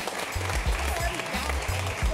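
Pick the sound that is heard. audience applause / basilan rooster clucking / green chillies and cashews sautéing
audience applause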